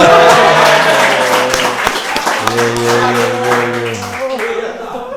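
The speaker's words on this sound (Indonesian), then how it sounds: "Tepuk tangan buat Bapak Fauzi Bowo." Audience applause for a guest on a Jakarta talk show, a dense wash of clapping running throughout, with steady sustained music tones and some speech mixed in underneath.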